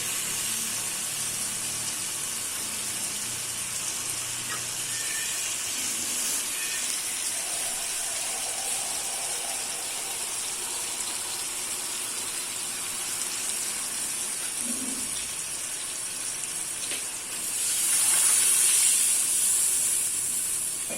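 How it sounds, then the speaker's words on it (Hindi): Water pours steadily into a cooking pot of spiced tomato masala with rice, a long hissing gush that swells louder near the end, with no talk over it. "अब इसमें पानी डालेंगे और चावल साथ में ऐड कर देंगे।"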